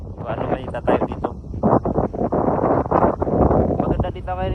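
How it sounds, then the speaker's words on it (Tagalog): Strong wind buffets the microphone outdoors at C6 in Taguig, a loud, continuous roaring rumble with gusty surges throughout, and a voice speaks over it. "Mahangin dito."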